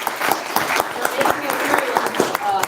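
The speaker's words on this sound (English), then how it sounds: "I think we should give them a round of applause." Spectators at a university moot court final applaud the finalists, a moderately loud, uneven clatter of hand claps from a smaller room crowd, with voices faintly mixed in.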